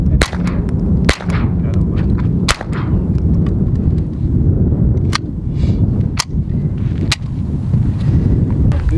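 Gunshots in the Nevada desert near Las Vegas, loud sharp cracks fired one at a time at irregular intervals over a constant rumbling outdoor background.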